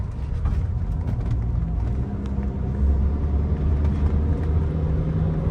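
A Ford Escape climbing a long mountain road in four-wheel drive, its engine and road rumble loud, steady and close throughout, with no talk.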